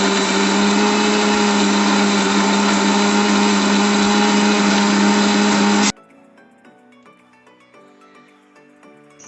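A kitchen mixer grinder blends niger seed chutney with added water, a loud steady whine running evenly for about six seconds before cutting off abruptly, followed by quiet music.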